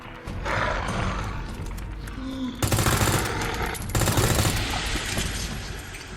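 Handgun fire in Resident Evil 2, with loud broadband shot bursts near 2.6 and 4 seconds standing out over a dense, busy game soundscape.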